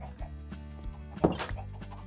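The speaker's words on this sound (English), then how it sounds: "Are there chickens inside the church?" Chickens inside a church on a Minecraft server, a short burst of game clucking rising briefly over background game music and ambience, moderately close.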